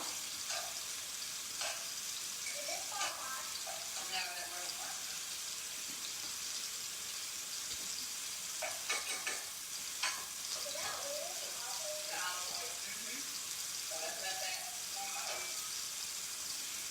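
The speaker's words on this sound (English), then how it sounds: "you want to wait until you hear a little bit of a sizzle" Meatballs frying in a pan with a steady sizzle filling the clip, occasional soft clinks and stirring scrapes over the constant crackle.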